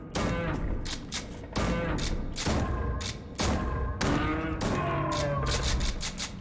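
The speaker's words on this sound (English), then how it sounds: "That was a rocket launcher." Rocket launcher fire in the roguelike shooter Jupiter Hell: a rapid string of loud, heavy blasts with brief gaps between them, each a broadband thump close up in the game mix.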